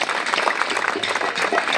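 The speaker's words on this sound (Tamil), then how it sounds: "சின்ன வயசுல ஒரு திறமையான ஒரு மிருதங்க சக்கரவர்த்தி யாருன்னா என் தம்பி ரெட்டையான காளீஸ்வரனுக்கு ஒரு கைதட்டு கொடுக்கலாம்" An audience at a Tamil Valli Thirumanam stage drama claps for a mridangam player, a dense, steady burst of applause from many hands filling the short stretch.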